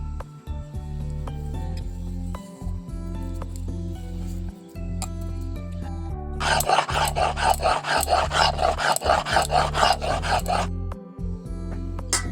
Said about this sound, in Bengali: সর্ষে বাটা হয়ে গেছে, এবার পোস্ত বেটে নেব।